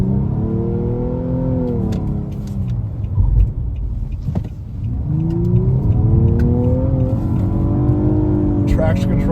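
A 2018 Nissan Maxima engine revs hard with rising and falling harmonic sweeps, then dips as traction control cuts power, and the revs climb again; the car sound is loud and close, with a voice talking over it.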